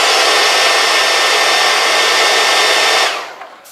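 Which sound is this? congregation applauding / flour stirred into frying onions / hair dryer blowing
hair dryer blowing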